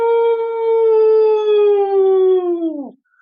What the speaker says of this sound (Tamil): ஐயோ, நாய் நரியெல்லாம் ஊளையிடுதே.